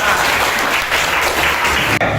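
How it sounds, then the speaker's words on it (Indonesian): Classroom of students clapping together in a dense, steady burst of applause, loud and close, breaking off abruptly near the end. "Oke, tepuk tangan semuanya."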